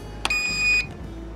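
A single sharp click followed by one steady high-pitched electronic beep lasting about half a second, close by, from a small RC helicopter's electronics as it is switched off.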